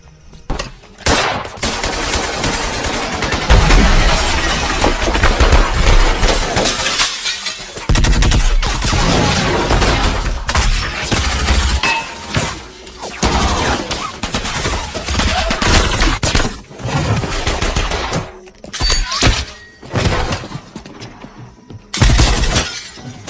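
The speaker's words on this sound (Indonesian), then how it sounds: "Hingga akhirnya aksi saling tembak pun terjadi." Intense gunfire exchange in an Indian action film scene, with long bursts of rapid automatic shots, shattering glass and impacts, loud and dense with only brief gaps.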